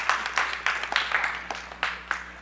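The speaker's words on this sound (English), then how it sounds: "give me a hand clap for having all the right answers" Hand clapping from a small livestream audience: about ten quick, uneven claps over a couple of seconds, moderately close and fairly quiet, with no talking.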